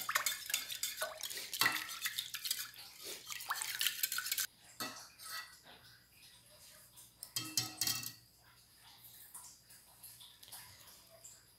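Eggs, oil and milk whisked together in a bowl for a coconut-filled chocolate cake batter, a quick clattering, scraping rhythm of the whisk against the bowl that loosens into softer, intermittent stirring taps partway through.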